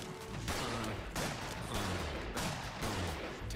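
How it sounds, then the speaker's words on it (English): Sound-effect gunfire from a cartoon sci-fi comedy firefight rings out in rapid, dense bursts of shots and blasts that run loud and unbroken throughout. "Draw your weapon and fire at will, Felix."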